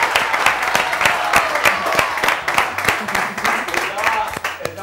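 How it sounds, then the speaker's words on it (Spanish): TV studio audience at a magic show applauding with a dense patter of many hands, moderately loud and continuous, with a low hum or music bed running underneath. "Fuerte aplauso para ella y fuerte aplauso para David"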